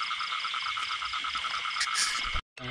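Frogs croaking at night during a rainy-season frog hunt: a loud, dense, pulsing chorus of rhythmic croaks close by, cutting off abruptly near the end.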